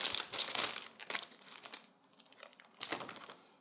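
A plastic shop pouch holding paintbrushes is opened and handled. It gives close, irregular bursts of crinkling and rustling with short pauses between them, and nobody speaks.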